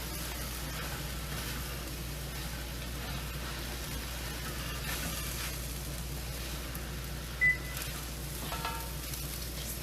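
Chili of peppers, onions and potatoes sizzles steadily in a pot while being stirred, a continuous close frying hiss with faint scraping and a low background hum throughout.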